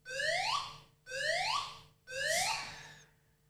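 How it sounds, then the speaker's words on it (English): A fire alarm sounds three times during a building fire alarm check, each loud electronic tone sweeping upward for about a second with brief gaps between, alone and with no voices. "That was just a fire alarm check"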